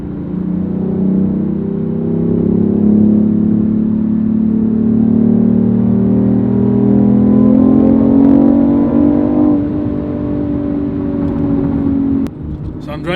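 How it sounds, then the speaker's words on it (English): Inside a BMW i8 hybrid in sport mode, the petrol engine and electric motor hum with a steady, rising tonal drone that climbs in pitch before a brief drop near the end, with no talking heard. "I'm driving the car in the sport setting that enables the petrol engine to work alongside with the electric motor."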